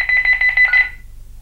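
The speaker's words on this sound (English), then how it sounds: "which also this device is programmed to, which is why it's beeping" A Honeywell 5816 wireless door/window sensor beeps in a quick train of about seven short, bright electronic pulses lasting under a second, then falls silent over a low background hum.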